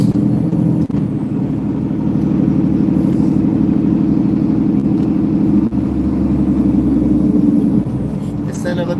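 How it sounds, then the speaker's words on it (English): Truck engine rumbling steadily at low pitch while driving northbound on the 101 highway, a continuous loud drone with road noise throughout. "Can't drive this truck everywhere."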